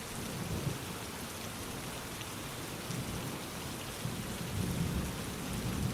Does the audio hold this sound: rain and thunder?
yes